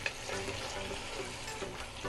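Mutton chops masala frying and being stirred on high heat, a steady close sizzle with scraping stir strokes throughout, no voices.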